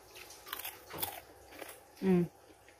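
Crispy fried dried fish is bitten and chewed, giving one loud crunchy bite burst near the end after softer mouth noises and low room sound.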